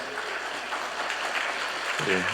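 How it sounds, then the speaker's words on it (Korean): Church congregation at a Sunday service applauding in a steady, soft wash of many hands, somewhat distant, with a voice coming in near the end. "우리 따뜻한 박수로 환영해 주시기 바랍니다."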